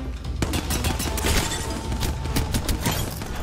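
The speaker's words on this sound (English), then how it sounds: "Who's shooting me?" Rapid bursts of gunfire in an Apex Legends match crackle loud and close, a dense string of sharp shots packed tightly across the stretch with no talking.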